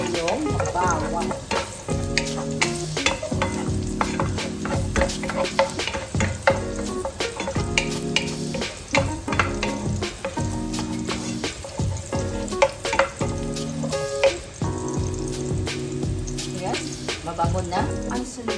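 Garlic frying in oil for chicken bones adobo, a dense crackling sizzle with frequent rhythmic metal clanks and scrapes of a spatula stirring in the pan, close and loud throughout.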